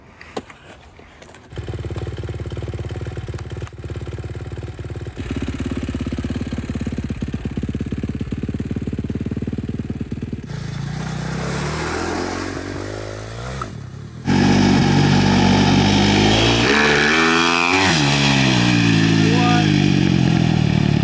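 A KTM 450 engine mounted on a homemade Amish buggy runs steadily at idle and mid revs, then grows louder and rougher as it revs up near the end, with a continuous close engine drone and clatter.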